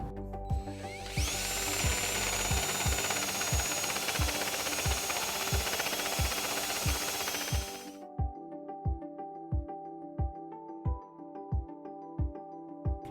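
A power drill with a step bit widens a hole in a 2021 Jeep Wrangler baseplate, a loud steady whine for several seconds that stops abruptly, then quieter rhythmic ticking continues.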